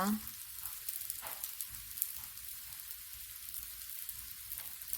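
Pieces of jackfruit root fry in hot oil with a quiet, even sizzle that sounds like light rain. The sound is close but soft and steady, with only faint shifts, and no one speaks.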